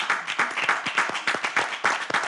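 A studio audience applauds a guest's arrival on a French talk show, a brief burst of fairly close, steady clapping with no pauses.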